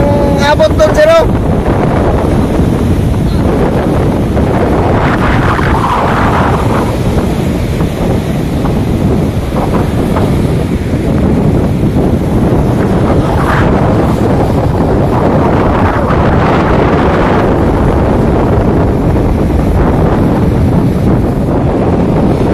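Waves pounding a beach shore in strong wind, a constant roar of surf and gusty wind buffeting the microphone, with a voice talking faintly at times underneath.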